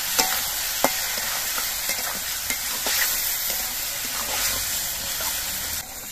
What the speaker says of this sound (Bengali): এবার এর মধ্যে আমি সর্ষে বাটা দিচ্ছি। সর্ষে বাটা দিয়েও অল্প একটু সময় কষিয়ে নেব।